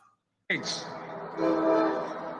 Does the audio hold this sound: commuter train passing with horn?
yes